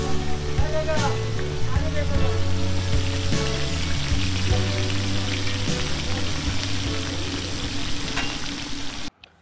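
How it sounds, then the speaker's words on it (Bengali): Hilsa fish frying in mustard oil at Mawa Ghat, a steady loud sizzle and crackle that runs continuously over a low humming background before cutting off at the end. "এখানে সরিষার তেলে মাছ ভাজা হয়"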